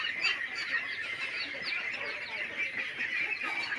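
A flock of ducks at a duck farm quacks and honks continuously in a dense, overlapping chorus, moderately close and steady throughout, with no talk.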